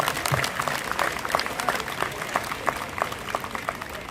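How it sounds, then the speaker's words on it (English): An audience at an 8th grade Moving On Ceremony in 2003 applauds, a fairly quiet, even patter of many hands clapping throughout, slightly distant in a large room. "Round of applause, please"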